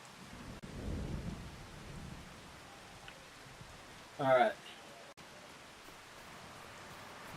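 Rain falls steadily in Farming Simulator 25 as a soft, faint hiss, with a low rumble early on. A short spoken word breaks through midway.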